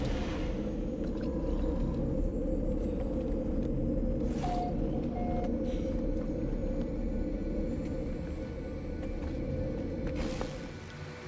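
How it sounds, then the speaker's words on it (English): A storm in the video game No Man's Sky gives a steady, dense low rumble that fills the whole stretch, with a brief faint tone partway through. It eases off slightly near the end. "is it just regular storm? Okay, not a super storm."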